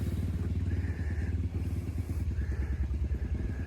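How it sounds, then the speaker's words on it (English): A four-wheeler ATV rides along a rural property line, its engine a steady, fairly close mid-pitched drone with a rhythmic pulse and a faint whine that comes and goes. "I got a little fella that likes to ride the property line on his four-wheeler"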